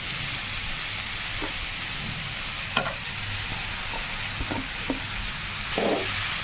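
An egg sizzles steadily in a frying pan with chowmein, a broad crackling hiss punctuated by several sharp spatters and pops, close and continuous without talk.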